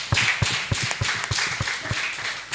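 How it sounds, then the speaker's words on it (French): Sparse applause from a studio audience on a French-language television magazine show about daycare, with distinct individual claps falling in a loose, steady rhythm. "Sous vos applaudissements"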